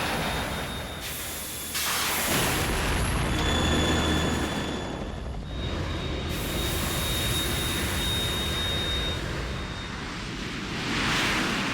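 A Harrier jet aircraft in Metal Gear Solid 2 roaring with a loud, broadband jet hiss and rushing wash, sustained and close, with brief dips and surges.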